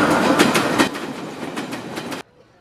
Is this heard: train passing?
yes